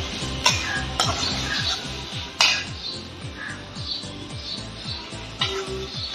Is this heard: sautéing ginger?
yes